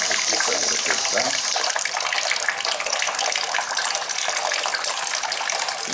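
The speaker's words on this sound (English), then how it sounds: "Now water starts to pour out" Water pouring steadily out of the orifice of a tank fed by an inlet pump, a continuous loud broadband splashing rush that holds constant throughout with no talk over it.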